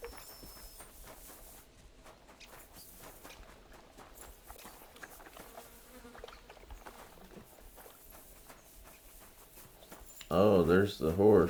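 Horse hooves clopping in Kingdom Come Deliverance 2, a soft steady patter of footfalls under game ambience, ending in a louder burst of sound near the close.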